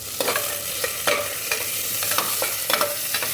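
Two large sliced onions sauté in oil under a constant loud sizzle. A utensil scrapes and taps through them in short strokes, close up and with no voices.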